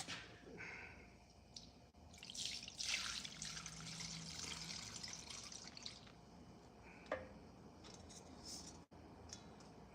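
Melted candle wax, about 80 ounces, is poured from a pot into candle containers, giving a faint, steady liquid trickle and splash that swells midway and then tapers off, with no talking.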